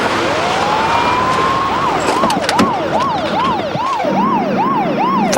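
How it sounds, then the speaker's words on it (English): An ambulance siren winds up, then cycles in a steady rising-and-falling wail, loud and fairly near over road noise, during an emergency rescue response. "I seen the ambulance coming down the other side"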